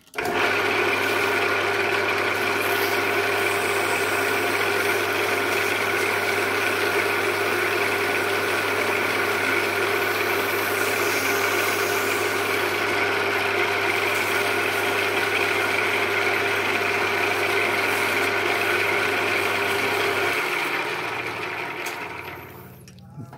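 A lathe whirs steadily with a constant low hum and a gritty, scraping hiss of sandpaper on a spinning gun barrel that continues for about twenty seconds before winding down.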